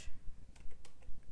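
Close, rapid keystrokes on a computer keyboard, a quick run of light clicks typed in irregular bursts.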